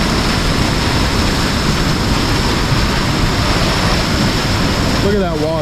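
Water rushing and churning through a clogged culvert pipe, a loud, steady roar that fills the whole stretch with a faint voice at the very end.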